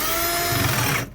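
A power drill bores upward at an awkward angle for a receptacle box during an entryway outlet install, giving a loud, close whine for about a second before cutting off.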